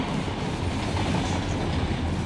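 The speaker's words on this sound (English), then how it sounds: "UP train hauling out." Union Pacific freight train rolling out in the Run 8 train simulator, a steady low rumble with clickety-clack of wheels on rails and faint squeal, continuous and fairly close for the whole stretch.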